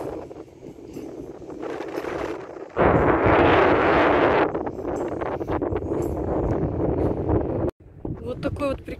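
Gusty seaside wind buffets the microphone in rough, rumbling surges, loudest midway, while someone talks nearby.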